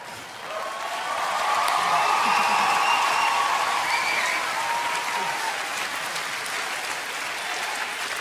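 A studio audience at a Swiss televised talent show semifinal bursts into applause that swells within the first second, holds loud and full, then eases slightly while continuing to the end, with faint voices mixed in.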